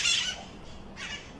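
Wild parrots on Telegraph Hill in San Francisco let out harsh, shrill squawks, one burst at the start and another a second later, heard at moderate distance over steady outdoor background noise.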